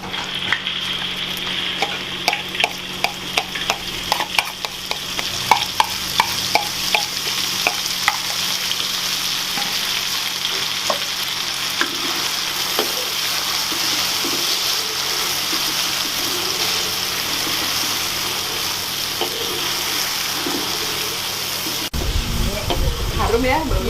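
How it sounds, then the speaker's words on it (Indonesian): Spice paste sautés in a hot pan for fish siomay, a loud continuous sizzle close up with repeated sharp spatula taps and stirring scrapes early on, a speaking voice now and then over the frying. "Ini kita tumis ya."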